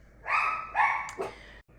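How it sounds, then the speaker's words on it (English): Puppy barking: two high, bright yips in quick succession followed by a shorter third bark, close and fairly loud, then silence. "Okay, puppy barking break."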